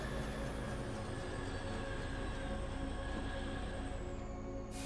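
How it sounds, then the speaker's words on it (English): A train in the factory-building game Foundry rolls along with a steady, unbroken mechanical rumble and a faint high whine, heard alone without talking. "You stay there for a moment, train"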